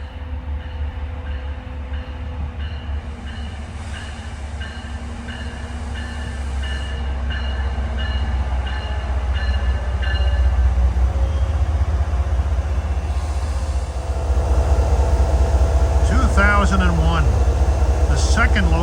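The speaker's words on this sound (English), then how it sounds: "Coming in at 8:57 is MBTA train 881, Boston to Providence." An MBTA commuter train on the Boston to Providence line arrives with a steady, loud rumble of wheels and engine that swells as it draws near, with a horn-like tone and squealing brakes toward the end.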